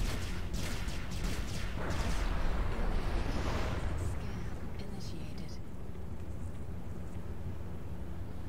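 Enemy ships fire on the player in the Star Citizen Arena Commander space combat game, a continuous dense roar of blasts and rumbling impacts that is loud throughout and swells in the first few seconds.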